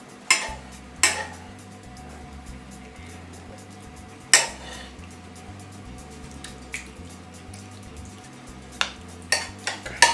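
Tomato sauce is spooned over fileja pasta as the final layer. A spoon clinks and scrapes sparsely against a dish, with soft wet drips over a low steady hum.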